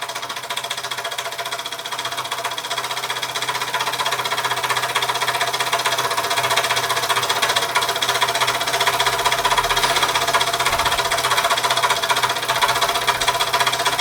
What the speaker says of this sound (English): The long lost Mamod Minor 2 running under steam for the first time in a long time.